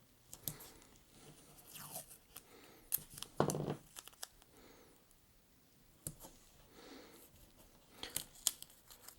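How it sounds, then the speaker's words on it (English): Black tape is torn and pressed around a pinhole camera lens in a series of close, crinkly rips and sticky handling sounds, with a louder tearing burst in the middle. "I'm just going to put some tape around this pinhole lens"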